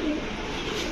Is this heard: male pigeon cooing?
yes